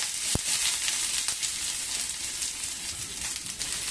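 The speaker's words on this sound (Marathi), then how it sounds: "आता कांदा आहे ना, आपण तेलावरती मस्त छानसा परतून घेऊया, थोडासा लालसर असा परतून घेऊया।" Chopped onion frying in oil in a pan for a Marathi suran and onion vegetable dish, giving a steady close hiss of sizzling throughout with one sharp click near the start.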